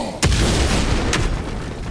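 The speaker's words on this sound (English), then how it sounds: "That bomb should help us out." A bomb going off in a video game set in Alfheim: a sharp, loud booming burst near the start, then a rumbling roar, with a second, smaller crack about a second later.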